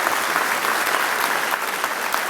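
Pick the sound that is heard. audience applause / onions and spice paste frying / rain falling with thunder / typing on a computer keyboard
audience applause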